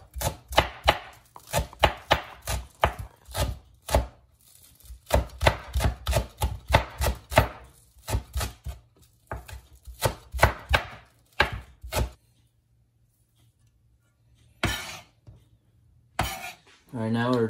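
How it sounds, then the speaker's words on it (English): Green onions being finely minced with a knife on a board, rapid bursts of sharp rhythmic chops close up, pausing near the end before a couple of final strokes. "Just want to cut them up fine,"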